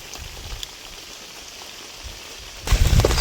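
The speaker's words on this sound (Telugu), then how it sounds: "పొలంలో చేసేసరికంటే వర్షం ఎక్కువైంది." Rain patters steadily on an open field during village outdoor cooking, a soft continuous hiss with low thumps, growing louder and heavier near the end.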